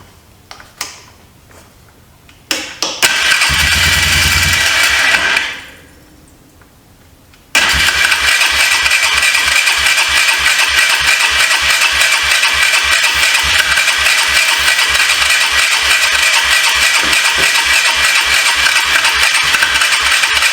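A 2004 Polaris Trail Boss 330 ATV engine is cranked with the starter: a short rough burst and whir, a pause, then a long loud steady rhythmic cranking drone with rattling, close up and with no voices.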